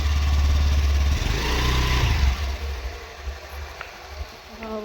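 A motorbike ridden by a young man rumbles at low revs, then pulls away, its engine fading into quieter background noise after a couple of seconds.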